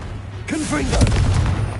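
A Confringo blasting spell explodes in the video game Hogwarts Legacy, a deep booming blast with rumbling decay, loud and close, while a voice speaks over its start.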